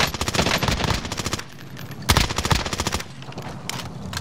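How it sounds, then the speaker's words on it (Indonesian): Rapid automatic gunfire in a battle royale video game comes in loud, fast rhythmic bursts, with sharp single cracks and short pauses between the volleys. "Dia nembak orang lain itu."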